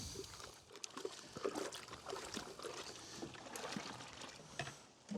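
A brush scrubs a bee feeder in water inside a prototype feeder washer, giving a continuous close wash of sloshing and scrubbing with faint splashes, fairly quiet, with no talking.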